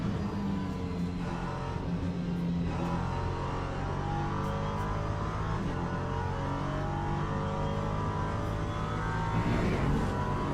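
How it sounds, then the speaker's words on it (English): An LMP3 race car's V6 engine in a racing video game, a steady low rumbling drone with shifting engine harmonics that holds at a constant loudness for the whole stretch. "It's like how rumbly the V6 on this is."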